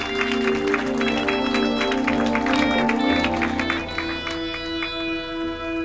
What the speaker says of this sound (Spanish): Den un aplauso a él.